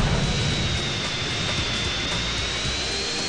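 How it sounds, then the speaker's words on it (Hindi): Fighter jet roaring overhead in GTA San Andreas during a police chase, a steady loud jet engine rumble and whine filling the whole moment without pause. "एक और फाइटर जेट भी भेजे हम लोगों ने,"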